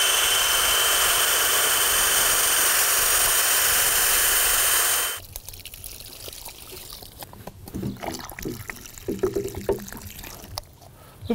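Water poured into a drilled hole in a borer-infested tree trunk to flush out soggy sawdust: a loud, steady gushing rush for about five seconds, then stopping abruptly, leaving quieter trickles and irregular drips and knocks.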